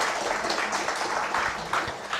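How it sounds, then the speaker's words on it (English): An audience at a one-day tax law seminar applauds, a moderate, steady spatter of many hands clapping in a hall, somewhat distant. "A big round of applause for both the giants of the profession."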